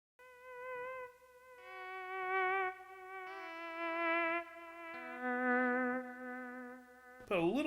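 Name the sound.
electric guitar with long delay, Tech 21 Fly Rig 5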